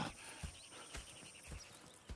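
Horses clip-clopping in the Red Dead Redemption 2 video game, with a few faint, spaced hoof thuds over a soft ambient background.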